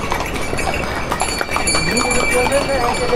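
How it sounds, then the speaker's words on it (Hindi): Horses and mules clop along the mountain trail to Yamunotri near Denjar. The hoofbeats are close and irregular, with people talking over them. "ये देखो भाई घोड़े खच्चर वालों का काटा लगा हुआ है।"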